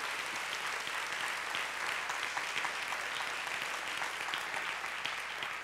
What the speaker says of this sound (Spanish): detengan los aplausos